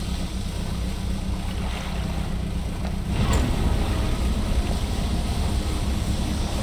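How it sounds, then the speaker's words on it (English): A small fishing boat's engine runs at sea in the game Dredge, a steady low drone mixed with wind and water wash that swells slightly louder partway through, continuous and without speech. "I'm gonna blow my engine again"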